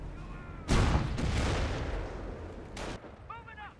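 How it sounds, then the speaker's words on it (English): Rocket barrage striking near a Flak 88 in Company of Heroes, a sudden loud booming explosion that rumbles and rolls on for about two seconds, followed by a second sharp blast. "Fly the rocket barrage running in, hits the Flak 88."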